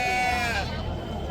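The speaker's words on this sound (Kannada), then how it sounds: "ಇವತ್ತು ಮಾರ್ಕೆಟ್ ಒಳಗೆ ಕುರಿ ಮರಿ ಭಾಳ ಇದಾವು" Lambs bleating loudly and close at a busy sheep market in Honnali, a wavering cry over a steady crowd babble of voices.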